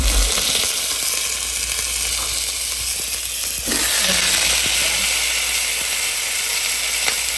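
Loud, continuous sizzling and hissing of tuna frying in hot oil, steady throughout with a brief shift in texture midway.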